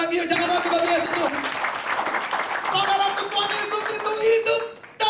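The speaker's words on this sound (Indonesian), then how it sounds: "Coba yang setuju tepuk tangan lagi, jangan ragu bagi Yesus Tuhan" Church congregation applauding steadily throughout, a dense wash of many hands clapping indoors, loud and close, with a sustained tone beneath.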